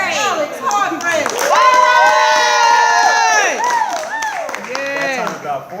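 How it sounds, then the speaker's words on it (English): Students at a school award assembly cheer and shout loudly, a dense crowd of young voices yelling together with some clapping mixed in, filling the room near and close. "That time about four of them applauded."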